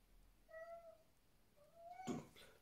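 A domestic cat meows twice, clear and fairly close: a drawn-out tonal mew, a short pause, then a second rising meow that ends in a brief louder burst, with a quiet room behind.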